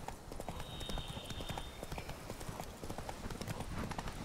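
Horse hooves clip-clop in a steady, even rhythm in The Witcher 3: Blood and Wine, fairly quiet and continuous at a walking or trotting pace.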